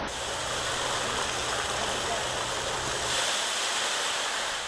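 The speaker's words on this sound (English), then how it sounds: "This is what happens if there's a cooking oil fire and you spray the fire with water." A loud, steady roar of rushing, crackling noise fills the clip without a break as a cooking oil fire sprayed with water flares violently, with no voices over it.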